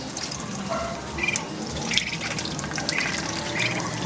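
Water poured out for young chicks, a steady rushing pour lasting throughout, with a few faint high chirps scattered over it.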